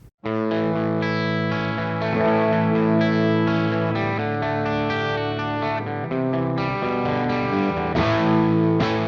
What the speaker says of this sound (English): Song kicks off with that identifiable intro, which features some open position power chords, some picking